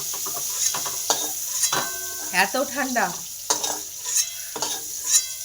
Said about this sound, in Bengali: দার্জিলিংয়ে বসে ভাজছি ফুলকপি